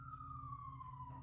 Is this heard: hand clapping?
no